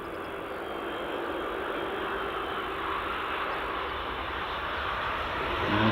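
A Ryanair Boeing 737 MAX 8 arriving from Nantes lands on runway 24 at Edinburgh Airport in the evening, a steady, moderately faint jet rumble and hiss that builds slightly toward the end.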